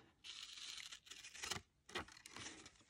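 Pinking shears cutting through paper: a few short, crisp snipping and tearing strokes, close and quiet, with brief pauses between cuts and no talking.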